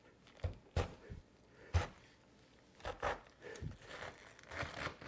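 Sharp knife cutting a head of cabbage in half, close crunching and crackling cuts in uneven bursts, fairly quiet, with no talking.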